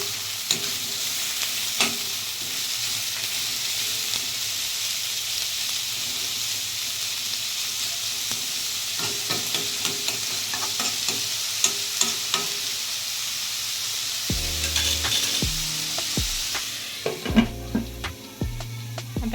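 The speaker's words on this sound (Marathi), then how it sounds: "कांदे चांगले मोठ्या आकारातले चार वापरा मऊ करून घ्यायचे आपल्याला" Onions for a Konkani-style prawn masala sizzle steadily in oil in a pan, with a constant loud frying hiss and irregular scrapes of stirring throughout, and clearer clattering strokes toward the end.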